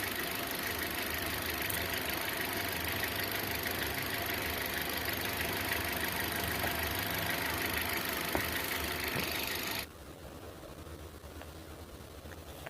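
A Hyundai Grand i10 engine idles during a coolant change, a steady, even hum that runs for most of the time before cutting off abruptly near the end.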